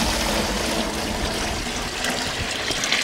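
Water pours steadily off the top of an engine sand trap, a continuous close splashing and trickling stream with no pauses or voices.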